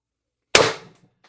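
A Beeman BP50 air pistol with an HD24 tuning kit and high-pressure-air expansion mod fires a single sharp crack, close and loud, decaying quickly into near silence.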